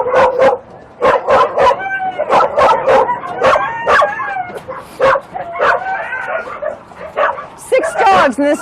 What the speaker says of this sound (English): Six dogs in this tiny cage.